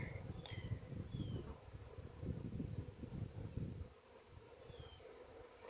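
A swarm of honey bees at a new hive gives a faint, steady low buzzing with a drone that fluctuates slightly and a few thin outdoor chirps above it. It softens near the end.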